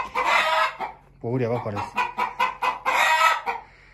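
Chickens and roosters clucking and crowing inside a village hen coop, close by, with a rooster's crow rising in the middle while people talk over and between the calls.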